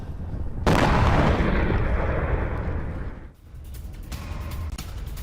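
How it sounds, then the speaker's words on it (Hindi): A heavy blast from Israeli strikes on Iran bursts in loud and rumbling, decays over a few seconds, then gives way to scattered crackling and further distant thuds. "हमले से हुए धमाकों से दहल गया पूरा का पूरा इलाका।"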